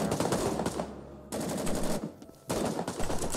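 Automatic rifle fire from a Vietnam War shooter game, set in the city of Hue, rattles in dense sustained bursts with two short pauses, loud and close throughout.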